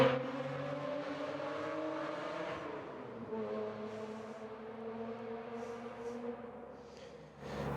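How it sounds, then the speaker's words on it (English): A loud motorcycle passes outdoors during horse groundwork, its steady engine drone shifting lower in pitch as it goes by, with no talking over it. "just had to let a loud motorcycle go by"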